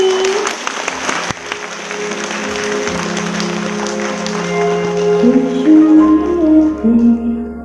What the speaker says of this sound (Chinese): 现在就让我们用最热烈的掌声欢迎廖淑娟的分享